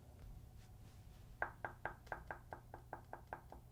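Knuckle knocks on the rigid cabinet of a Magico A1 loudspeaker: about a dozen short, dull, damped raps in a steady rhythm, close and clear over a quiet room hum.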